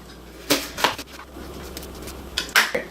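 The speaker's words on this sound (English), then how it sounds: "Alright, now we're gonna cut the onion." Knife chopping an onion on a cutting board for street tacos, a few sharp, separate cuts spaced out in a quiet kitchen, with a closer pair of knocks near the end.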